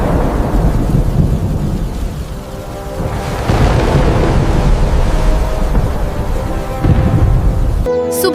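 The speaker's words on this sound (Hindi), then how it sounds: "उस रात बहुत तेज बारिश होती है, आंधी और तूफान आ जाता है" Heavy rain pours steadily with rolling thunder swelling in loud waves through the stretch, ending with a brief sharp crack of noise.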